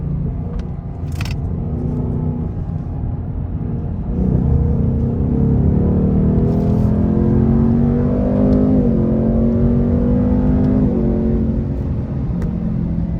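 A 2024 Ford Mustang GT engine rumbles steadily from inside the cabin, its pitch rising and falling as it revs through a downshift.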